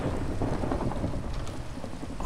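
Steady rain and rolling thunder from a Minecraft-style video game storm, a continuous dense rush with low rumbles, fairly quiet and with no talking.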